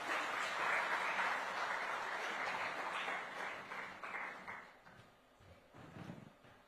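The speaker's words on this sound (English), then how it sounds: "A huge round of applause once more" An audience applauds at the TimesNow Education Summit 2026 South Edition in India. The clapping is dense and sustained for about four seconds, then thins and fades, with faint voices at the end.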